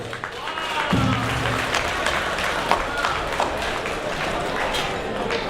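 An audience claps steadily in a dense, continuous wash of applause, with a speaking voice heard over it.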